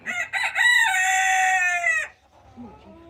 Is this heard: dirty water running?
no